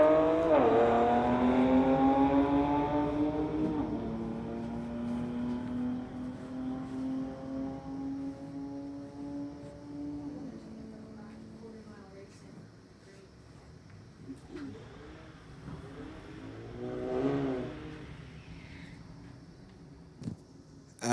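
A 2017 Infiniti and a 2020 Infiniti launch side by side in a street drag race, engines roaring and climbing through quick gear changes before fading off into the distance. Another engine swells briefly later.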